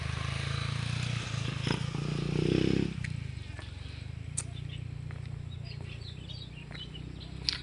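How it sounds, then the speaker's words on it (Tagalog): Motorcycles pass on a steep mountain road near Purisima Mountain View in Consolacion, Cebu, a low engine drone that swells to a peak around the third second, then fades under steady outdoor ambience. "may dumadaan mga motor guys oh."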